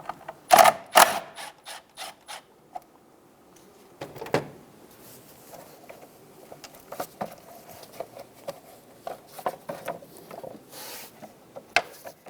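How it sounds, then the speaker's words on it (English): A 10mm socket ratchet loosening a nut on a 2000-2007 Ford Focus, giving sparse mechanical clicks and clanks of metal tools, close and intermittent, with a louder clatter near the start and no talk. "loosen the top nut"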